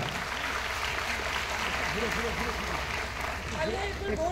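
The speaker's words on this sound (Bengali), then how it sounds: "একটা জোরে হাততালি হয়ে যাক" Steady applause from an audience at a medal and certificate presentation during a cultural festival in Purba Bardhaman, with voices and speech running over the clapping throughout.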